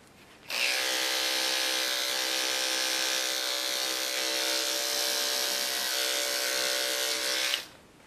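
Electric clippers shaving a poodle's foot: a steady, close, high-pitched motor buzz switches on abruptly, runs evenly for about seven seconds, then cuts off, with no talk over it.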